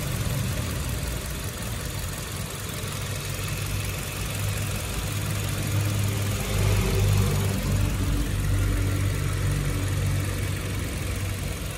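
A 2009 Kia Carens with an automatic transmission idles smoothly, a steady low engine hum heard close up with a slight swell in the middle, no voices over it.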